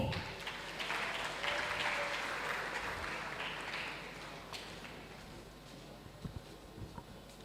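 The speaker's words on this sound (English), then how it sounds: "Can we give another round of applause for Paul?" Audience applause for a presenter at a tech convention, a broad wash of clapping that stays steady through the first half, then thins and fades, with a few sharper claps near the end.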